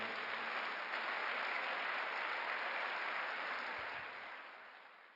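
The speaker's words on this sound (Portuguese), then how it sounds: "Quem recebe, dá um aplauso a Jesus." A church congregation at a Sunday service claps, a dense, steady wash of applause from many hands. It holds at an even level, then tapers off toward the end with no voices over it.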